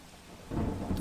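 Rain falls steadily in Vadodara as a low rumble of thunder swells in partway through this brief stretch of wet, noisy ambience.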